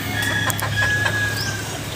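Chicks and chickens on a hot day, steady clucking and peeping close by over a constant low hum, with no talking.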